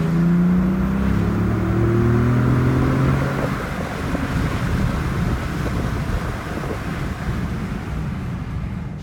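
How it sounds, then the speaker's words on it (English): A 2018 Ford Raptor with a freshly installed aFe intake revs loudly, its rising engine note swelling early and then settling into a steady roar with faint turbo whistle and wind rush. "You can hear the turbos a little more."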